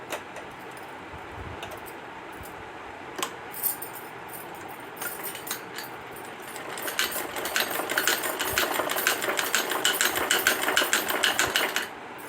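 A sewing machine stitches a strip onto the right side of underwear fabric, starting with short hesitant bursts and then running in a steady, rapid clatter for several seconds, close and loud with no talk.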